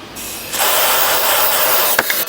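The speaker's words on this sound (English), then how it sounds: "I'm going to spray a little bit of this penetrating fluid around the spark plugs" A short, hard hiss of penetrating fluid aerosol sprayed around the spark plugs of a 1970 Jaguar XJ6 starts after a brief pause and sprays steadily, followed by a couple of quick clicks.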